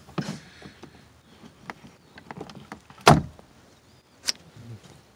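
A seat heater switch being pried out of a 1999–2006 Chevy Silverado dash with a tool, a sharp plastic pop followed by scattered light clicks and taps, close by with no talking.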